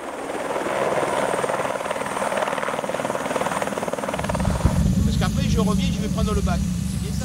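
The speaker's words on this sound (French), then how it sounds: "L'hélico, le voici. C'est un écureuil qui va emmener les hommes sur les hauteurs du massif." An Écureuil helicopter flies firefighters in the Garlaban massif near Aubagne, its rotor a loud steady thumping drone that shifts in tone midway, with talk running over it.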